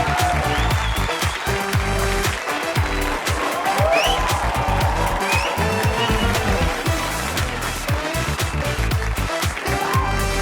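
An audience at a comedy show in a theater bursts into sustained applause and cheering as actor Rajkumar Rao walks on stage, dense clapping with whoops rising over it, loud and continuous from start to finish.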